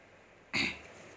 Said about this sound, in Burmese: ချောင်းဆိုးတယ်